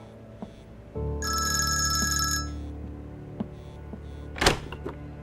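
A telephone rings in a quiet room in a drama scene, a steady electronic ringtone lasting just over a second after a soft start, followed by a sharp clatter, with no talking.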